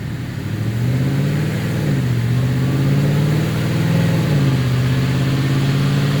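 Supercharged 2017 Ford F150 Roush Nitemare on a dyno pull in fourth gear, its loud engine holding a steady drone that rises and dips in pitch as it revs, alone with no talking.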